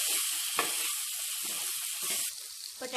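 Potatoes with garam masala and peanuts sizzle quietly in a pan as they are mixed, a soft continuous hiss with a few brief scraping stirs, close but faint and without speech.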